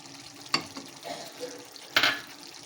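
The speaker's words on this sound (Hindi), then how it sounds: "वो 1 प्याली दही में इसमें डाल दूँगी।" Whisked yogurt tipped into a pot of mutton korma and stirred in, with two sharp splashy pours and soft scraping stir sounds between them, close by with no talk.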